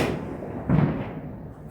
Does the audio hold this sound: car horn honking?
no